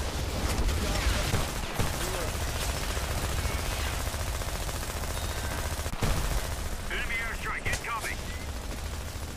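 Dense multiplayer gunfire in the video game Homefront crackles with overlapping shots and bursts, loud and continuous, under a player's voice talking.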